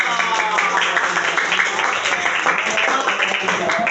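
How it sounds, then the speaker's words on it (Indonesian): A classroom of students claps together for a classmate's question, brisk, close clapping mixed with children's voices throughout. "Kasih tepuk tangan dulu dong."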